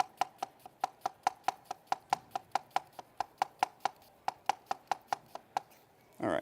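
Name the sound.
knife slicing white onion thin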